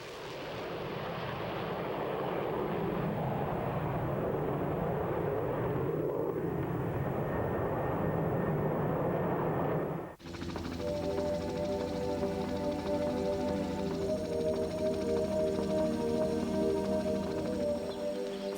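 An F-14 Tomcat fired off an aircraft carrier catapult: a heavy roaring rumble builds, then a sudden break gives way to a loud, droning jet engine roar that carries on steadily, with no voices.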